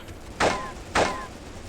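Two loud tank gun shots from a stuck tank in Graviteam Tactics, a WWII Kharkov 1943 battle game, about half a second apart, each a sharp blast with a short ringing tail.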